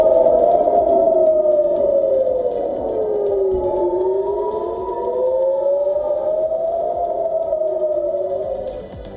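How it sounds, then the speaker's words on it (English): Civil defense air raid sirens wailing in northern Israel after a ballistic missile launch, a loud rising and falling tone sweeping slowly up and down throughout, alone without talk. "The Israeli army says that sirens have been sounded in the north after an Iranian ballistic missile launch."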